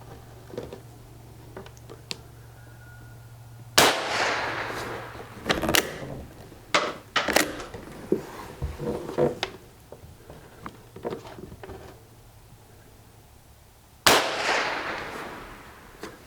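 Rifle fitted with an antique Lyman No1 peep sight fires two loud, sharp shots several seconds apart, with quieter mechanical clicks and handling noises in between.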